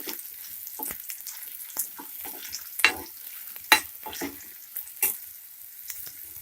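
Red chillies frying in oil for garlic chutney, with soft crackle and scattered sharp utensil scrapes and clicks of stirring, fairly quiet and close, no voices.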